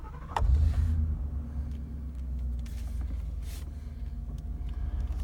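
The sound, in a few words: truck engine being turned back on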